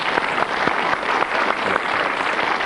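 Studio audience applause on a 1997 episode of the Countdown game show, a steady broadband wash of clapping that stays even throughout, with no voices over it.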